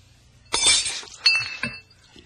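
A glass of water is dropped and shatters with a sharp crash, followed by a few tinkling clinks of scattered shards, loud and close in a quiet room.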